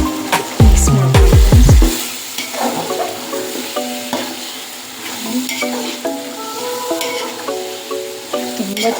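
Mutton biryani masala frying in a pot while being stirred, with a few loud spoon scrapes and clanks against the pot at the start, then a steady close sizzle with scattered soft stirring sounds.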